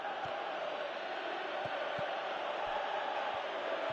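A stadium crowd in the football video game PES 2018 calls out as a steady, distant roar of massed voices, with a few soft low thumps scattered through it.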